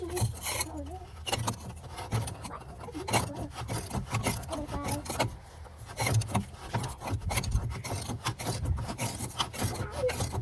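A 1/2-inch ratchet on a long extension with a 15 mm socket works a cab mount bolt loose on a 2011-2016 Ford F250, giving a steady run of close, rasping clicks and scraping over a low background rumble.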